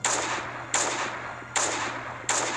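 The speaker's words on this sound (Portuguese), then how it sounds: "Tem que dar dois tiros de AK pra gente poder sapecar todo mundo" AK rifle fire in the Last Day video game comes as four loud, evenly spaced single shots, each with a long, noisy decaying tail. No voice accompanies them.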